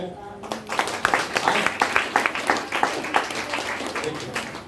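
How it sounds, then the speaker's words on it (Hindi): Audience clapping in time at a motivational talk, a steady rhythmic beat of many hands at moderate distance lasting several seconds, with speech-like crowd noise underneath. "ताली मार के"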